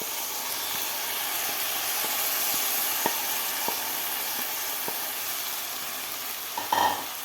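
Soaked rice is stir-fried in masala for a Maharashtrian green peas rice, giving a loud, continuous sizzle and hiss. Faint, evenly spaced ticks of stirring run through it, and a short scrape comes near the end.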